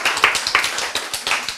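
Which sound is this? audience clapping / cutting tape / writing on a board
audience clapping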